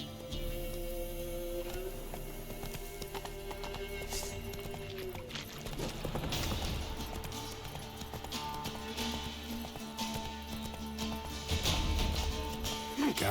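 Horse hooves clip-clop at a gallop in The Witcher 3: Wild Hunt, with steady rhythmic thuds under game music and ambient effects, plus a brief whinny or faint voice later on.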